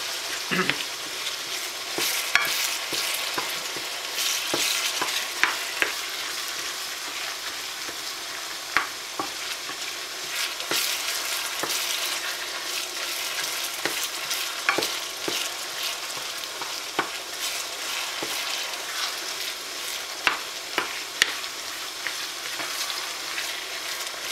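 Cold meat hash with a potato coating frying in a pan for spicy pâté chinois, a loud, constant close sizzle broken by frequent sharp crackles and stirring scrapes, with no voices.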